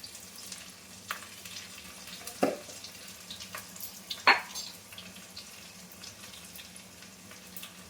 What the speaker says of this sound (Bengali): দিয়ে আমি মশলাটাকে ভালোভাবে কষে নেব।